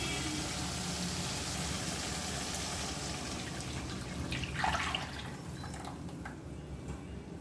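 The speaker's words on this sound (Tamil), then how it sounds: "அந்த கிண்ணத்தை வந்து தண்ணி கொஞ்சம் ஊற்றி அலசி ஊற்றியிருக்கேன்" Quiet water is poured briefly to rinse a bowl, splashing into it over a steady low background hum, then fading away.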